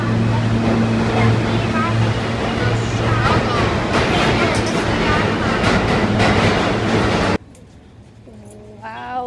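Loud, steady rumble and screech of a packed Miami Metrorail train riding, with a droning hum and people talking over it before the noise drops away.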